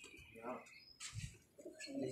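Domestic fancy pigeons in a loft in Karachi coo softly at close range, a few low burbling calls with light chirps, alongside faint nearby human voices.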